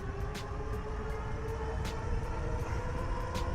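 A Murf Higgs Step Thru electric bike's motor whines steadily while accelerating, humming along under rushing wind noise, with faint periodic ticking over a low rumble.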